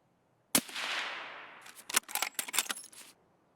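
A gunshot in the shooter game Escape From Tarkov rings out sharply, its long echo decaying for about a second before a quick run of clicks and rattles follows, with no talk.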